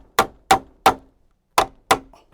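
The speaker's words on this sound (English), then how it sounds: "And I'm gonna use a hammer." A hammer strikes five sharp, ringing blows during a whole-house fan installation, three evenly spaced, a pause, then two more, close and loud with nothing else heard.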